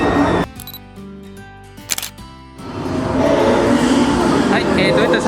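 A camera shutter fires a few crisp clicks at 1/50 second while night street photos are taken on a city street, followed by busy traffic and crowd ambience.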